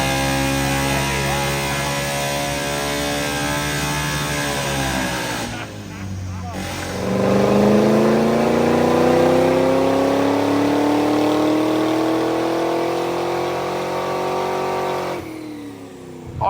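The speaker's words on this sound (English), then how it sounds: "So they put this RX-7 on the dyno, and it seemed like it was struggling a little bit." A Mazda RX-7 rotary engine revs on a dyno, sounding strained as it climbs steadily in pitch, drops out briefly around six seconds, then pulls hard again in a long, loud, continuous rising sweep.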